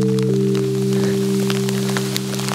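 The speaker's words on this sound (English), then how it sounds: "A full-on hailstorm." Hail patters steadily across open ground beside a canal in a full hailstorm, a dense, continuous crackle of small impacts over a steady low droning hum throughout.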